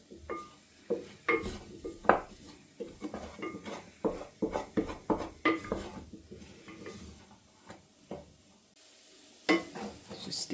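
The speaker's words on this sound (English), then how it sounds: "Just give that a stir." A spoon scrapes and clinks against a pan while tomato puree is stirred for beef bourguignon, with irregular close knocks and scrapes over a faint sizzle and no talking.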